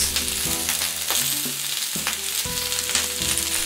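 Beef sautés on a hot plate with a continuous loud sizzle and occasional stirring, over background music.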